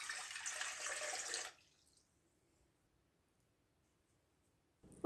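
Lukewarm water runs for spelt bread dough in a home kitchen. It is a brief, soft splash lasting about a second and a half, then silence, then a sharp click at the very end.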